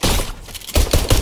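SMG fire in the Fortnite video game, with two quick, loud bursts of rapid shots a fraction of a second apart.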